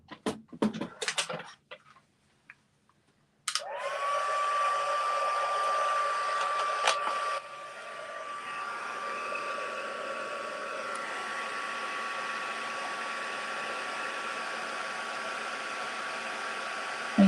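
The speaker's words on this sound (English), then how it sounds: "I'll just come in with my heat tool" A heat tool blowing hot air over a craft project, switched on with a click and then running as a steady, loud whirring hiss. The pitch steps down partway through and the tool keeps droning evenly, with no talk over it.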